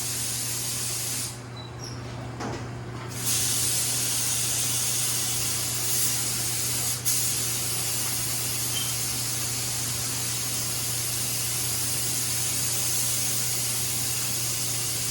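A spray gun lays clear coat over the patina on a 1955 Chevy Bel Air, producing a loud, continuous hiss with a short dip near the start, steady to the end.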